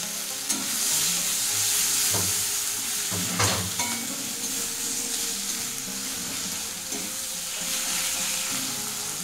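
Two medium tomatoes frying in a pan for a spicy pea and mushroom curry, a steady sizzle with occasional stirring clatters of a spoon against the pan, close and continuous with no talking.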